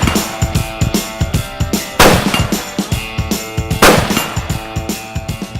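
Rapid rifle shots ring out while a Zeiss Conquest V4 1-4x24 scope is zeroed at a shooting range, with many sharp cracks in quick succession and two louder, broader blasts standing out among them.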